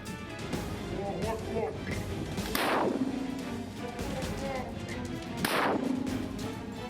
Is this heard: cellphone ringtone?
no